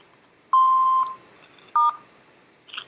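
Telephone keypad tones on a voicemail call, including the star key; a long steady beep, a shorter second beep and a faint third tone, clean and close with no talk.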